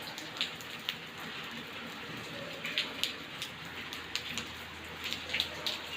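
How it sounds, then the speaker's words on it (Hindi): Steady rain falling with scattered droplet taps and patters, a constant wash of water sound without speech. "বাইরে বৃষ্টি পড়ছে"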